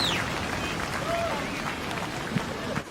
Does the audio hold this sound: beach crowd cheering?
yes